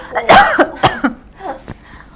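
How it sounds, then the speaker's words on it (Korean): A few sharp, loud coughs in quick succession at close range, followed by softer throat sounds. "기침이 너무 나와서 잠시만요"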